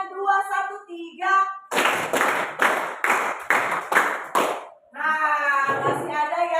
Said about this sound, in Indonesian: Tepuk tangan 1 kali. Tepuk tangan 2 kali. Tepuk tangan 3 kali. Tepuk tangan 2, 1, 3.